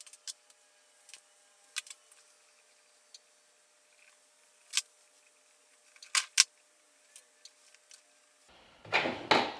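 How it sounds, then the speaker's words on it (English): Ratcheting crimpers clamp an 8-gauge terminal onto a wire with a scattering of sharp, light clicks and snaps, then a denser rasping burst near the end. "we got ourselves some ratcheting crimpers, and we're gonna get this crimped right on there"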